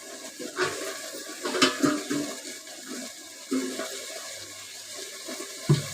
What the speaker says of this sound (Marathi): आणि पाणी ओतते.